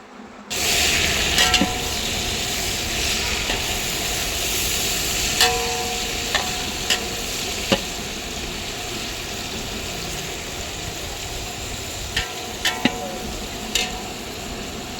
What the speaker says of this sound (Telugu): ఆయిల్లో అయితే కొద్దిగా ఫ్రై అవ్వాలండి.